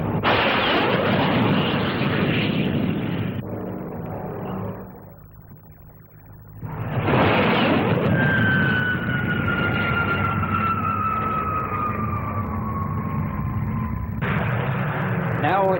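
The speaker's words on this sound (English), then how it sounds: "This is the Navy's low-level strike aircraft." The Navy's NA-39 low-level strike jet flying a display pass at the 1959 Farnborough air show, a loud roaring whoosh that swells, fades briefly, then returns with a falling whine, under a commentator's voice.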